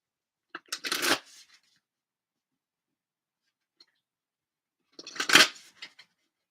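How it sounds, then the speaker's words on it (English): Moonology Oracle cards are shuffled in two short, crisp riffling bursts heard up close, separated by several seconds of near silence. "let me get some cards from the Moonology Oracle"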